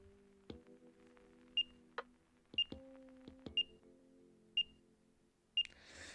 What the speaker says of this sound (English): you're probably going to hear that beeping noise quite a lot because I'm going to be tanking everything